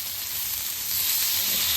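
Slices of elephant foot yam fry in hot oil, giving a steady close sizzle that swells slightly louder toward the end, with no talk.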